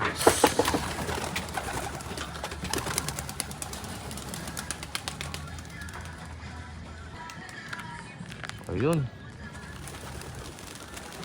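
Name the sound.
pigeons cooing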